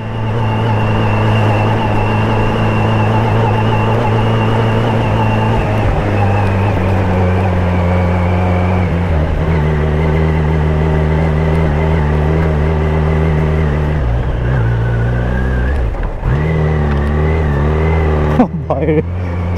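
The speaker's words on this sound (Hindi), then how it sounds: "भाई इस पे चक्का स्लिप कर रहा है।" A Kawasaki Z900 motorcycle revs loudly and close in long sustained pulls, its pitch rising and falling as the rear wheel slips, with a rider's talk over the engine.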